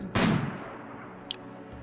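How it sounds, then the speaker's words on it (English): One sharp gunshot from a sniper rifle in the colony game RimWorld, followed a second later by a fainter short crack over a quiet ambient bed. "I hear Ronnie shooting way off in the distance"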